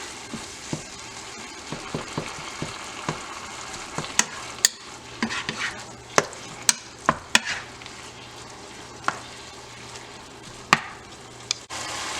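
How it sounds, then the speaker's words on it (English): Ground beef and onion browning together in a pan give a steady close sizzle, with frequent sharp clicks and taps from a utensil breaking up and stirring the meat. "I'm going to brown up the meat with the onion cooking all at the same time"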